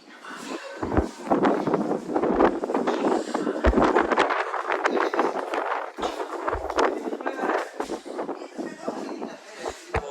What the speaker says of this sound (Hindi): बहुत ही तेज हवा के साथ में